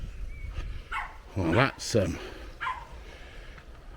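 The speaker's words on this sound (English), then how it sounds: "that's Daisy barking at me because I've climbed down the bank" Daisy the dog barking during a walk along an old railway line, a few sharp barks at mid distance amid outdoor noise, with someone speaking briefly.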